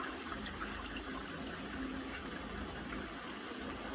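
Water runs from a tap in a steady, faint, continuous gush with light splashing, alone and without talk.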